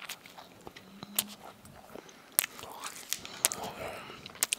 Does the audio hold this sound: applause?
no